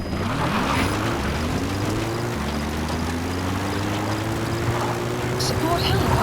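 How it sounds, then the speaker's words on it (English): Support helicopter from Metal Gear Solid V arriving, a steady loud rotor and engine drone with a slowly rising whine that fills the whole clip, under radio-style game voices. "Support helicopter has arrived."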